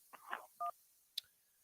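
Telephone keypad dialing tones sound as a phone-in call to a radio show connects, with a few short, distinct beeps and a brief high blip, close and clear over a quiet background.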